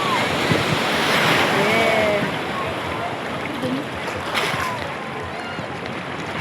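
Sea surf washes onto a beach at sunset, a continuous rushing wash of waves with wind buffeting the microphone, loud and close throughout.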